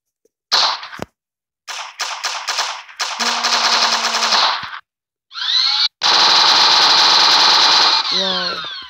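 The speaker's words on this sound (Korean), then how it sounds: "이것도 샷건 같은 종류네." Synthetic shotgun-style gunfire from a scripted video game weapon, played as several loud, closely spaced blasts and bursts with sustained rattling fire, separated by short silent gaps and a rising mechanical whine near the end.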